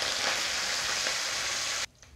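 Curry leaves and green chillies sizzle hard in hot oil in a kadai, a dense, continuous hiss close to the microphone. The hiss cuts off abruptly near the end, leaving only a faint quiet crackle.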